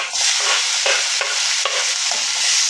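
Golden onions with tomatoes sizzling in a pan, a steady bright frying hiss broken by several sharp scrapes and clacks of a spoon stirring, close and alone with no talk.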